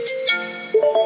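A short electronic notification tone chimes from a phone, a few bright beeps within about a second, set off by a Swift Dzire car's GPS tracker alert, with no speech.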